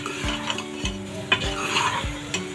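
A spoon stirs ghee into fried meat and spice masala in a pot, making repeated scraping strokes against the metal with a soft sizzle beneath, close and fairly loud, without any talking.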